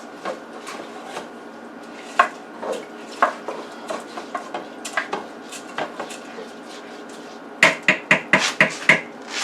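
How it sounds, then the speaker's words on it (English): A spoon stirs chicken and rice in a pot, making a run of uneven metallic clinks and scrapes against the pot, with a quick cluster of sharper knocks near the end. "we're going to give that a stir"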